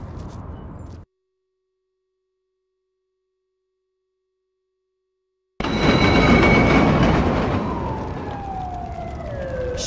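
A train runs in a 1979 film scene: a low rumble cuts off into several seconds of silence, then returns as a loud roaring run with high screeching and whining tones sliding downward.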